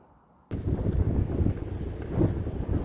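Wind gusts buffet the microphone outdoors at a sawmill during work on a big white pine log, a sudden loud rushing that starts after a quiet moment and keeps blustering steadily.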